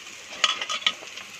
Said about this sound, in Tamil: இப்போ இதை நல்லா பரட்டிக்கோங்க.